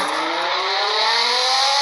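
A car driving and accelerating in the mobile game Car Driving Indonesia, a steady loud engine drone with rising pitch throughout, no speech.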